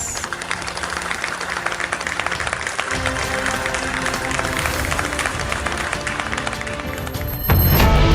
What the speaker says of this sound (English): let's celebrate with a big round of applause.